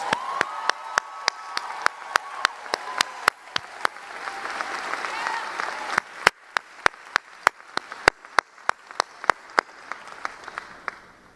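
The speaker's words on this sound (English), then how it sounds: "Please give them a round of applause." At a college commencement ceremony, an audience claps for staff volunteers, with sharp individual claps standing out near the microphone over a softer, sustained wash of crowd applause that thins toward the end.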